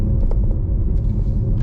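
A 2016 Ford Mustang GT fitted with Kooks headers and a Corsa Extreme exhaust gives a deep, steady, loud droning rumble.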